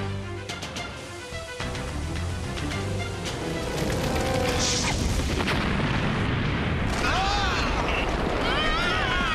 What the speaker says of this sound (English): explosion we heard from above must be causing this smoke